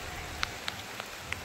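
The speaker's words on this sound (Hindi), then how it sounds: "ये बारिश की बूंदे मेरा कुछ नहीं बिगाड़ सकती।" Scattered raindrops tapping outside a gym, four or five soft, separate ticks over a quiet, steady background hiss.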